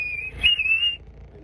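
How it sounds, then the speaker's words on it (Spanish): A loud human whistle, one sustained high piercing note lasting about a second that wavers slightly in pitch, heard alone and close. "Le empiezo a chiflar."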